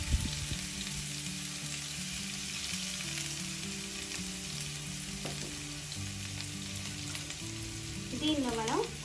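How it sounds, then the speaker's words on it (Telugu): Thinly sliced onion frying in hot oil with cumin seeds for a mushroom curry, a steady close sizzle with occasional stirring, background music playing underneath. "దీనిలో ఇప్పుడు 1 ఆనియన్ని ఇలా సన్నగా ముక్కలు కోసి వేసుకోండి"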